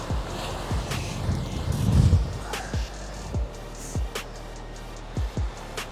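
Gusty wind buffets the microphone at the seaside, with low rumbling bursts, a stronger surge near the start, and scattered soft knocks and clicks against a steady background roar.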